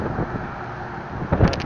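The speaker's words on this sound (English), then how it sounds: "Sorry about the wind out here." Steady rumbling wind buffeting a microphone, with a louder gust near the end; no voices.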